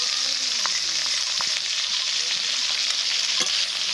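Ground spice paste hits a pan of already fried potatoes, pointed gourd and tomatoes for a rohu fish curry. A steady, bright sizzle runs throughout, broken by a few scraping stirs of a utensil.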